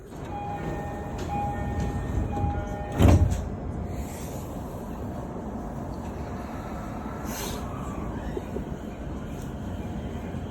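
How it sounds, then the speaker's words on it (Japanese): Tokyo commuter train doors slide shut with a single solid thump, heard inside the carriage over a steady rumble of the train, followed by continuous interior noise. "ドアが閉まります。 ご注意ください。"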